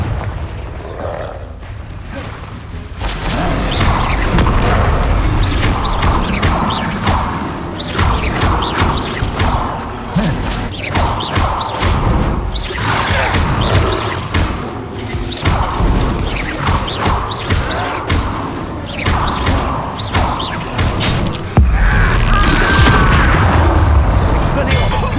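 Loud spell explosions and blasts from the Hogwarts Legacy video game roar almost continuously with booms and crashes, dense and heavy throughout, with occasional voices shouting over the din.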